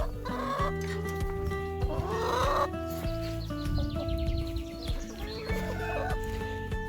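Chickens cluck and squawk inside a henhouse, several hens close by making overlapping, busy calls with no talk.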